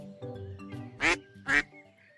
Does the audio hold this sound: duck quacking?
yes